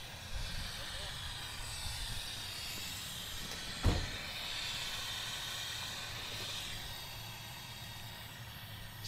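Steam hisses steadily from the overheating engine of an abandoned 1976 AMC Pacer, a broad constant rush with a brief louder burst partway through, and a voice speaks over it.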